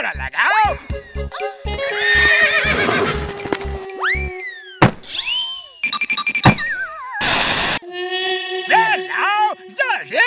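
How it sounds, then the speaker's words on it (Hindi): A cartoon horse being hitched to a chariot whinnies with bright, exaggerated neighs, mixed with hollow clip-clop thunks, boings and other comic effects, while voices talk in between. "रथ में घोड़ा लगाओ।"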